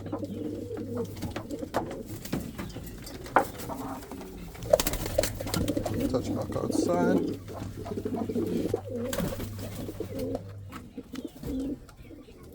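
Pigeons coo repeatedly inside a loft, soft low burbling calls recurring throughout, heard close beneath someone talking.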